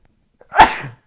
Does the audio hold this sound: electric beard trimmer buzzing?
no